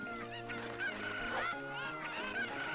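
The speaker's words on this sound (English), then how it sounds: "So these cuckoos actually look the exact same from regular cuckoos." Cuckoo chickens in The Legend of Zelda: Ocarina of Time give repeated clucking, honking game-bird calls over steady background music, fairly quiet and continuous.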